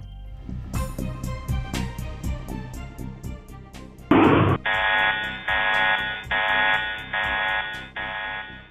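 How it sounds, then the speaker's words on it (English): After a run of soft rhythmic clicks, an electronic alarm at the Very Large Telescope control console sounds in loud, steady buzzing pulses, repeating about five times with brief gaps. "An alarm at the VLT console indicates to the astronomers"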